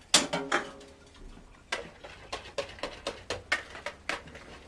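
Crepe batter with a pinch of salt being beaten with a whisk in a bowl, a steady run of sharp, close clinking taps against the bowl side, with no talking.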